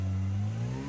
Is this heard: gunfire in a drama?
no